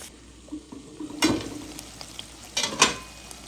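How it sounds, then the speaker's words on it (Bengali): Halved new potatoes fry with spices for an egg and potato curry, with a faint sizzle broken by a few bursts of scraping as the pan is stirred. "নতুন আলুটা মাংসের সাইজে কাটছি, 2 টুকরো করে। মশলার সাথে ভেজে নিব।"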